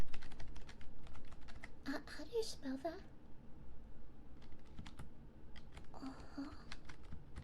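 Rapid typing on a computer keyboard, clicks in quick irregular bursts throughout, with a soft-spoken voice asking questions over the keys in a quiet bedroom setting.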